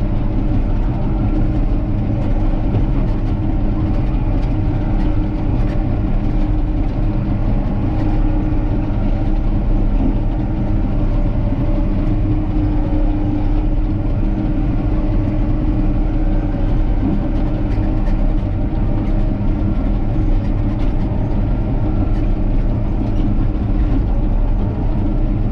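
Caterpillar D6K crawler tractor pushing earth to fill low ground, its diesel engine holding a steady, loud low rumble without letup throughout, working under load.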